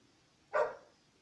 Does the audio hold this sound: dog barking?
yes